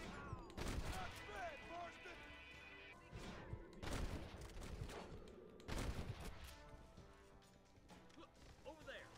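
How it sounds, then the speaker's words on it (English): Gunfire in the video game Red Dead Redemption, with repeated sharp shots and crashes in bursts amid game sound effects and music, while a player talks over it. "Who's shooting?"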